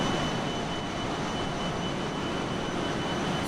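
Fokker F28 jet engines in a flight simulator game, a steady, unbroken cabin roar and whine that holds level throughout with no voices.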